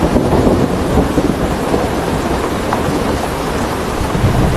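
A thunderstorm beside the coast at Cape Lookout, North Carolina, with loud, steady rain and deep rolling thunder rumbling continuously throughout, close and dense with no voices.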